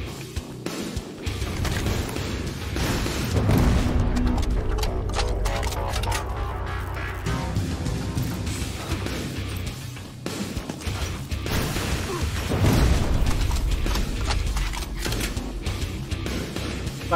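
Rapid gunfire and crashing impacts from the video game Terminator Resistance, dense bursts of shots and clattering mechanical hits continuing loudly throughout, with no clear talk.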